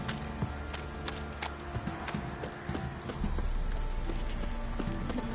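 Horse hooves clip-clop steadily in The Witcher 3, a continuous rhythmic trot over game ambience, moderately close, with no talk over it.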